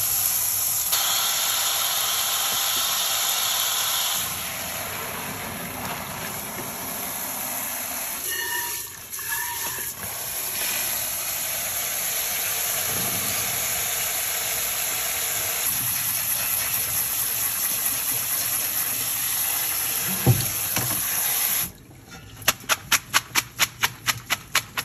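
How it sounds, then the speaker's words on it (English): Cold tap water runs in a steady hiss as cooked pasta is rinsed in a kitchen, with brief clatters partway through and a string of sharp clicks near the end. "Now I'm gonna go ahead and rinse it in cold water."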